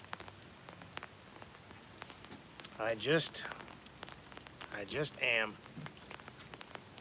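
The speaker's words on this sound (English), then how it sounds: "Starting to rain." Light rain begins to fall outdoors, a soft steady patter of drops with a few louder taps, while someone speaks briefly.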